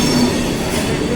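A train rumbles at a railway platform on arrival in New Delhi, a loud steady mechanical roar with a faint high squeal near the start and no talking.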